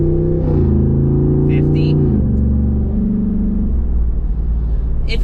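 A modified truck with a 392 engine cruising at highway speed, giving a loud steady engine drone and road rumble with shifting tones, heard from inside the cab as a voice speaks briefly.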